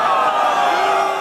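Concert crowd in Sweden reacting after the frontman fell off the stage and broke his leg, a sustained roar of massed voices with long drawn-out tones that could be booing, steady and loud throughout.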